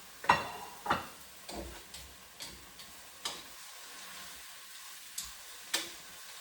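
Beef and bell peppers are stirred in a pan, giving a row of sharp scraping clicks at a steady beat over a faint sizzle, with no one talking.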